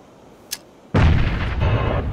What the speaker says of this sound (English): Just threw a grenade at him.